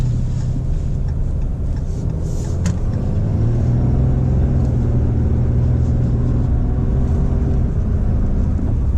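An unladen 2018 Ram 2500 heavy-duty diesel pickup truck accelerates toward highway speed with a steady, loud low engine rumble and road noise heard from inside the cab, with no talking.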